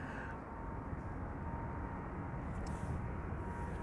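A China Southern Cargo Boeing 777 freighter departs Amsterdam Schiphol, its engines a steady, faint broadband roar heard from a distance, even and unbroken throughout.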